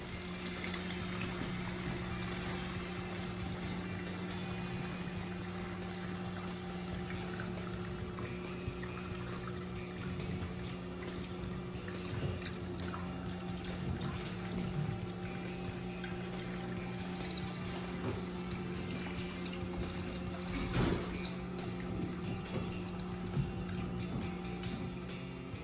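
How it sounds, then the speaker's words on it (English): Water draining steadily from a saltwater aquarium during a water change, a continuous trickling and pouring flow with a steady low hum underneath, close and constant throughout without speech. "Now that I have drained 20 gallons out of my system"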